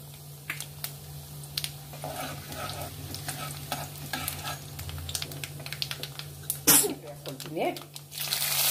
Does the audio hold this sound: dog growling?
no